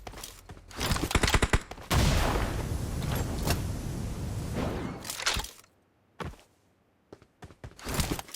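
Gunfire from the mobile battle royale game BGMI: loud bursts of rapid shots in quick volleys, a sustained roar of firing, then a pause and more scattered shots near the end.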